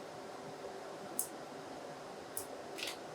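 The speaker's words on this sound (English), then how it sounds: "just some standard kitchen scissors works great." Standard kitchen scissors snip string off a crusted veal chop, a few short crisp cuts, close and fairly quiet against a low room hiss.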